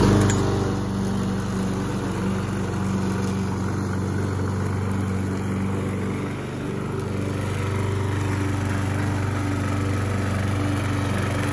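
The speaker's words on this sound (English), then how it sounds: "I better get working on the mowing." A lawn mower engine runs steadily outdoors, a loud continuous droning hum that barely changes, with a slight dip partway through.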